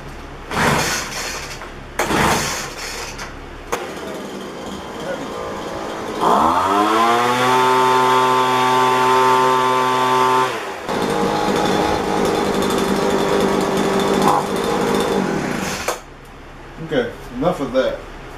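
A leaf blower motor hums and whines steadily, briefly joined by a louder, lower buzzing engine tone in the middle; someone talks over the sound throughout.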